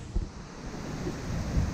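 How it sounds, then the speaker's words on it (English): Strong wind from Hurricane Sally roars and buffets against the microphone in a steady, heavy rush with low thumping gusts, no voices, in Spanish Fort, Alabama. "Some pretty good gusts this morning from Hurricane Sally"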